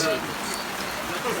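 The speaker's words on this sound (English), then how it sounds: "Reality check at Europe's 2020 in the absolute pissing down rain." Heavy rain pours down on an outdoor strongman competition venue, a steady broadband hiss heard from under a tent, with faint voices in the background.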